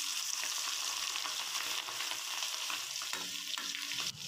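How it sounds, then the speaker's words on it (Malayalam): Marinated prawns frying in hot oil in Kerala style, a dense, bright, continuous sizzle close by that eases slightly toward the end. "ഇനി നമുക്ക് ചൂടായ എണ്ണയിലോട്ട് ചെമ്മീൻ ഫ്രൈ ചെയ്തെടുക്കാം"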